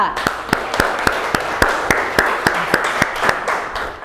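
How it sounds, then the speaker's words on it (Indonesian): Students in a classroom applaud a presenting group with a steady, rhythmic clap in unison, loud and close, over a general hiss of room noise. "Tepuk tangan untuk kelompok Delta"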